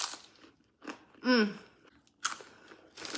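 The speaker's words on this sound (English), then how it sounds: "It comes with like a bag of extra pita, but these ones are more like crunchy." Crunchy pita chips being eaten, with a couple of sharp bites and chewing crunches close to the mic, separated by brief pauses and a short spoken word.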